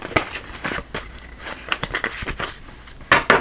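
Tarot cards shuffled during a monthly card reading, a run of soft crinkling riffles and papery snaps at close range, irregular bursts with a louder flurry near the end, no voice.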